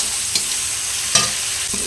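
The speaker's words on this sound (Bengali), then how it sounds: "পেঁয়াজ রসুনটা এরকম লাল করে ভেজে নিয়ে গুলে রাখা মশলাটা দিয়ে দেবো" Onion and crushed garlic frying in hot oil until reddish, a close, steady sizzle broken by a few sharp stirring clicks.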